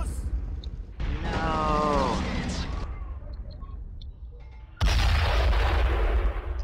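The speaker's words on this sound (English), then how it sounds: "Oh, the gosh dang mortar." Mortar and artillery fire in the Men of War Assault Squad 2 WW2 strategy game at Kasserine Pass, with booming blasts, rumbling battle noise and a loud impact near the end, over a continuous game soundscape.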